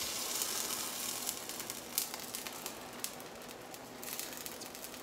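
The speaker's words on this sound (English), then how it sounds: "It's boiling up a little bit. I got on the lowest setting now." Food boils on a stovetop in a pot turned down to its lowest setting, giving a faint, steady sizzling hiss with small irregular pops and crackles and no talk.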